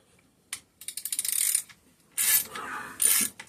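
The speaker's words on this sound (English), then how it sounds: "We're gonna have to use a ratchet." A ratchet wrench clicks in quick accelerating bursts at close range while working on a busted Homelite 330 chainsaw pulled from a junkyard scrap hopper, with metallic scraping and rattling between turns.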